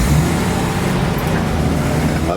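Toyota FJ40 Land Cruiser with a three-speed column shift on the move, giving a steady, loud low engine drone and road rumble that fills the cabin without a break.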